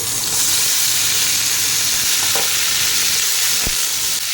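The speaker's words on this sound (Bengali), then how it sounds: "কালো জিরে ফোড়ন দিয়ে পেঁয়াজ ভেজে নিচ্ছি" Onions frying in hot oil with nigella seeds, a dense, steady sizzle and crackle close by, with a few faint stirring scrapes and no talking.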